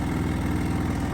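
A small go-kart engine rebuilt from recycled parts runs close by at a steady pulsing idle, alone and fairly loud with no talk.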